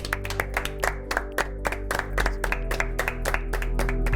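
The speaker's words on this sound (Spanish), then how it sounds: "Es que ellos también se merecen un aplauso." Sharp, rhythmic hand claps ring out from a group of people applauding together, a fast steady beat of close, bright claps over a low hum, with no talking.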